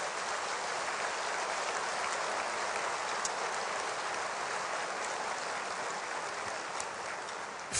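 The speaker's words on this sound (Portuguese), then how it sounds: "eu queria pedir que este auditório tão seleto oferecesse um aplauso" A large church auditorium audience gives a long, even round of applause, a dense rain-like hiss of many hands clapping that holds steady throughout, with no voices.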